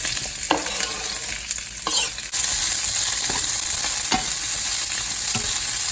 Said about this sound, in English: you can add the celery to the wok